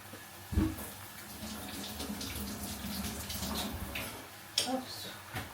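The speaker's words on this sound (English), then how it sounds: "so I'll wash the tomato too" Tap water runs while a tomato is washed, a steady rushing flow with a couple of louder splashes near the start and end as the tomato is handled under the stream.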